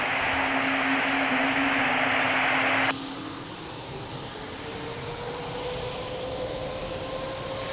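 An airliner taking off from runway 02 at Lisbon airport, a steady loud roar of jet engines with a hissing wash that suddenly drops to a lower, sustained rumble as it moves away.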